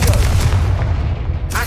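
A Confringo spell explosion in the video game Hogwarts Legacy, a loud, short booming burst that rumbles and fades over about a second, close and dominant, with a voice calling out the spell at the start.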